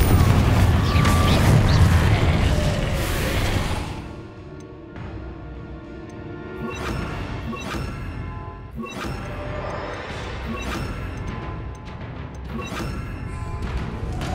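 Confringo spell blasts in Hogwarts Legacy on PS5, a heavy booming burst followed by a series of sharper explosive hits and crashes over game ambience, with no voices.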